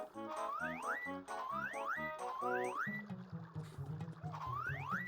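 Springy boing effects from a weapon altered by a sound-effects badge in Paper Mario repeat in quick rhythmic bursts with rising pitch sweeps, over a faint game soundtrack.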